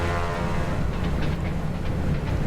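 An electric train in the Railway Empire 2 Swiss Mountains setting runs steadily with a deep continuous rumble and faint rhythmic clatter, loud and close, with no talking.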